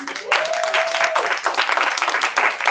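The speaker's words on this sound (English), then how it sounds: "Clap for April." An audience at a book launch celebration breaks into lively clapping, dense and steady for a few seconds, with a brief sustained tone near the start.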